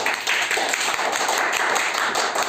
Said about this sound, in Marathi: टाळ्या वाजविणे. चला टाळ्या वाजवा.